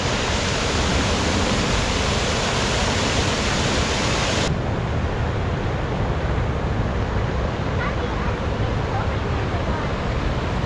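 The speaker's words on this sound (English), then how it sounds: "we agree the fountains here are just incredible" Outdoor water fountains in Washington DC splash and rush in a loud, constant wash of broadband noise that fills the whole clip.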